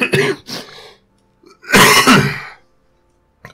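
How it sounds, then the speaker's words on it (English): A few harsh throat-clearing coughs, close and loud, come in two bursts separated by brief quiet. "This is the nature of my cough at the moment."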